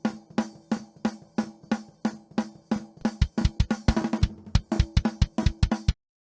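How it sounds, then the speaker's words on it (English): Punchy, big 1980s-style snare drum from a Tama Rockstar kit, struck alone in a steady beat of sharp, loud hits that speed into quicker doubled strokes and fills in the second half, close and dry, then cutting off. "the snare drum sounds like this."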